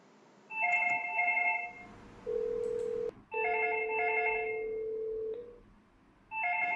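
An Htek IP phone rings for an incoming 3CX call, sounding repeated bursts of electronic ringtone tones with steady sustained beeps between them, close and clear, with no talking.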